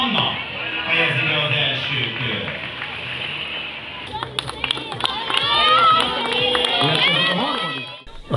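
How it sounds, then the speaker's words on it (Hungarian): Spectators behind a barrier cheer on young triathletes at a Super Sprint race, a crowd clamour with clapping and shouts that swells midway, while a voice speaks over the first half. "Eközben a szurkolók kordon túloldaláról biztatták a fiatal sportolókat."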